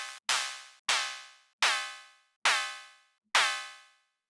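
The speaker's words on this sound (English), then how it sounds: "now I'm going to play with the waveform in oscillator 2 to see if we can get some more harmonic content here." FM synth percussion with an altered oscillator 2 waveform plays five bright, harmonically rich metallic hits at a steady pace, each decaying quickly into silence.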